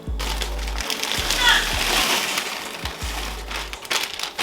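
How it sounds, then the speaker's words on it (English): Peas and chickpeas are poured into a vegetable curry pot, a wet splattering slosh with soft thuds, while someone speaks nearby. "now I'm gonna be adding the peas and the chickpeas."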